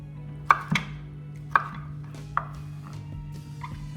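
Knife chopping green beans on a cutting board in a kitchen, a few sharp separate knocks against a steady low background hum, close and fairly quiet.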